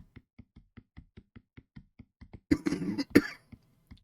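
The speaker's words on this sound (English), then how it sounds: "Sudden coughing fit there." A sudden coughing fit brought on by dust in the throat: a few sharp, loud, close coughs and a raspy throat clearing burst out over a steady run of soft, evenly spaced taps.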